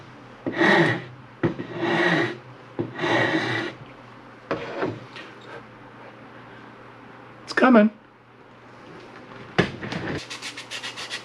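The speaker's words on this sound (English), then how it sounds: "It's going to take a little bit of tricky sanding down in here to get it fixed up." Hand sanding or rasping in several short scraping bursts, separated by pauses, with some quiet talking in between.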